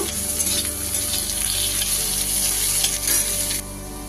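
Paneer, cauliflower and capsicum frying in a hot pan, with a loud, continuous sizzle and stirring scrapes close up that drop off abruptly near the end.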